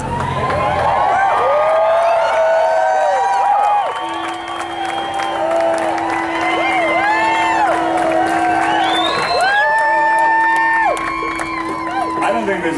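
A huge outdoor crowd at a Hollywood strike solidarity rally outside Disney Studios cheers and whoops continuously, with loud voices, shouts and a steady whistle or horn tone running through the middle of the roar.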